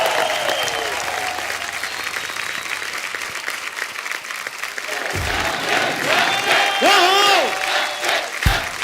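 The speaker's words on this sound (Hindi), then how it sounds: "जोरदार तालियां एक बार अक्षय बाजी के लिए।" Steady studio audience applause at a comedy talk show fills the space throughout, with a few whistles and cheers rising near the end amid the crowd noise.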